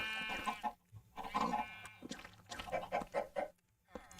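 A chicken in the Minecraft Skyblock video game gives a run of short clucks and squawks, fairly quiet, several calls in quick succession with brief pauses and no talking.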